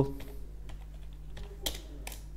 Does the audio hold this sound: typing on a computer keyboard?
yes